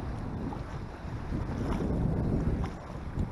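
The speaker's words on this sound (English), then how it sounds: "Wind is blowing so hard," Strong wind blows at Grenada Lake, a loud, steady roar with heavy buffeting against the microphone and no voices.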